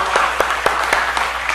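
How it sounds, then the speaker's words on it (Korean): Brief applause from a church congregation during a Wednesday service: a few sharp claps at an irregular, fairly quick rhythm, close and moderately loud, with no voices over them. "우리 박수 또 한번 부탁합니다."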